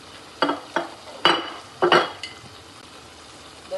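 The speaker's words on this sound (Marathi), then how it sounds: "तर चांगलं हलवून घेते जरासं." Rice is stirred in a cooking pot for chicken biryani. A spoon makes about five distinct scraping, clinking sweeps against the pot with short gaps between them, close up over a faint background hiss.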